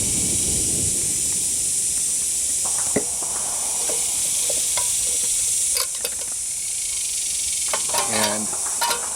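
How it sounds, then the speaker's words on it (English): Oil heating in the cooking vessel of a Trangia stove, a steady sizzling hiss with a few faint clicks and scrapes near the end, close by and fairly loud, with no speech. "we're going to introduce a little oil into our cooking vessel"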